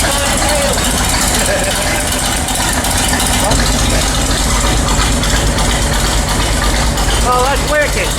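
A 1953 Chevy rat rod engine idles through a 2-inch exhaust, a loud, steady, low rumble that runs unbroken the whole time, with brief voices over it near the end.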